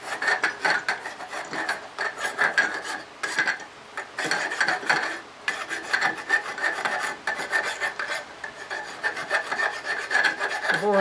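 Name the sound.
deburring metal motorcycle part with a file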